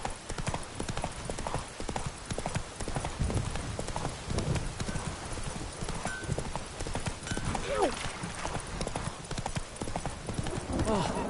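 Horse hooves clip-clop at a steady trotting rhythm in The Witcher 3, close and continuous beneath game ambience, with an occasional whinny and a voice.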